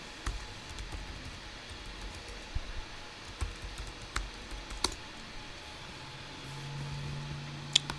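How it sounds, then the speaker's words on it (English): Quiet typing on a computer keyboard while entering login credentials during a software setup, a scattered run of soft close key clicks over faint background hiss. "It's going to ask us to type in our credentials."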